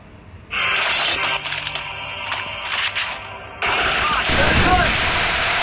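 Rapid automatic gunfire from a shooting video game, dense bursts of shots that grow louder and harsher toward the end, with no voices over them.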